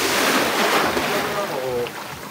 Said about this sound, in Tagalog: Ang lakas kasi ng waves